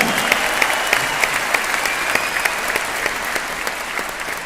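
A seminar audience applauds loudly and steadily, with dense, continuous clapping and sharp individual claps standing out throughout, and no talking over it.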